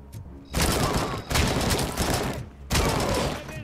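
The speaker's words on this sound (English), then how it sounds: "Did you throw that grenade?" A grenade blast and bursts of gunfire in the Robocop: Rogue City game, loud and close, coming as two or three heavy rumbling bursts that each hold for about a second.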